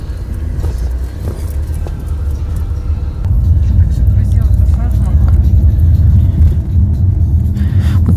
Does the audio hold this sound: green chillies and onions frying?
no